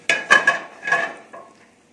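Garlic frying in oil in a pan, with a few sharp stirring clatters and short bursts of sizzle that fade out.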